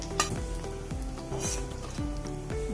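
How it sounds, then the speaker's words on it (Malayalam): Anchovies frying in a pan of oil, giving a steady close sizzle with repeated scraping and stirring strokes against the pan and no talk. "ഇട്ട് തീർക്കാൻ വെച്ചതല്ലേ നല്ല സൂപ്പർ ഫ്രൈ ആയിട്ടുണ്ട്"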